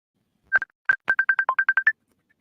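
Telephone tones for an incoming call: a quick series of about a dozen short, evenly pitched electronic beeps in an irregular rhythm, loud and close, followed by silence.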